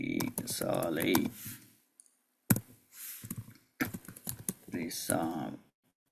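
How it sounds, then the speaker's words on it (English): Computer keyboard typing comes in quick bursts of crisp clicks, with talking before, between and after the bursts. "I'll type here."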